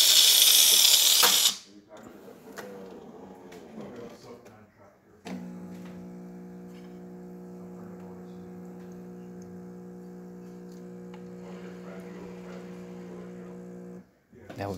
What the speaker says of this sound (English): Nice steady pressure coming out there, looking great. Excellent, excellent steam as you see right here.